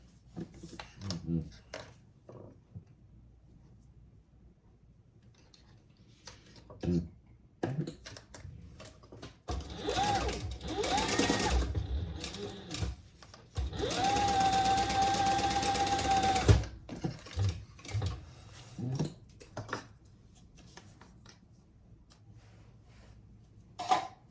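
A sewing machine stitches down the sides of a fabric sling bag along the seam allowance, running in two steady bursts of several seconds each, with quieter handling of the fabric and bits of talk between them.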